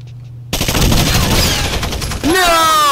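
Loud bursts of rapid automatic gunfire in the video game Rainbow Six Vegas, a dense volley from close range followed by a sharp ricocheting whine.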